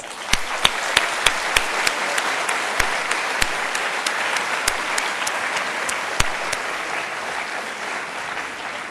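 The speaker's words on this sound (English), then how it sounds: "Please give them a round of applause." A graduation ceremony audience at a polytechnic applauds, a dense, steady wash of many hands clapping with sharp individual claps popping out, sustained evenly throughout at a moderate distance.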